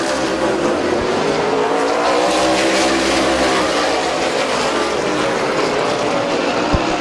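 Race cars roar around the dirt track at Midvale Speedway, a loud, continuous, close engine drone with layered revving as several cars run together.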